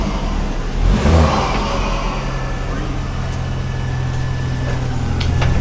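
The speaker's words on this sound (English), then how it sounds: "We're going to go through the tunnel and do some pops and bangs." A Ford Focus ST Mk2 with an uprated intercooler accelerates through a tunnel, its engine droning loudly and steadily while people talk over it.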